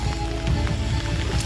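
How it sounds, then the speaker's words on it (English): Steady rain falls outdoors at a 90-meter canoe portage in a park, a dense, even patter of drops on surfaces that continues throughout without a break. "It's raining,"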